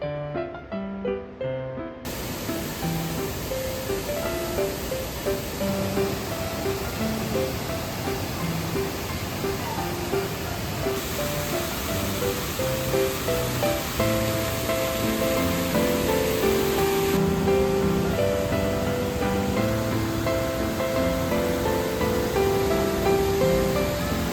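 A waterfall on a walking trail roars as a steady, dense rush of falling water, loud and close throughout, with no voices over it.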